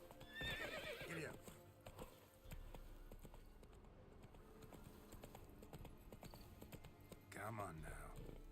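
A horse in The Witcher 3 whinnies loudly at the start and again near the end, with steady galloping hoofbeats running between the neighs.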